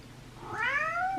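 A house cat gives one rising, drawn-out meow up close indoors, over a quiet background.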